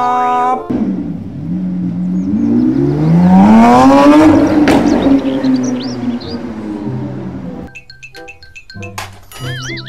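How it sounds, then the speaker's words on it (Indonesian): A racing car engine revs up in a rising whine, peaks, then fades, followed by short electronic beeps and chimes. "Mobil balap."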